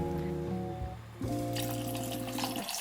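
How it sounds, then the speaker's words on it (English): Water runs into a pot over soaked peach gum, a close, continuous gurgling pour whose pitch rises as the pot fills, then swells into a brighter rush before stopping. "In a pot, add the peach gum and just enough water so that the peach gums are submerged."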